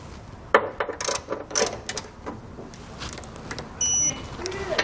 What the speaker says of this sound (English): We can then go back and tighten them down with a 21mm socket.